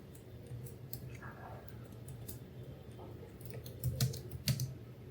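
Computer keyboard typing at a desk while writing HTML heading tags, a handful of soft key clicks with a louder burst of strokes near the end over a low steady room hum.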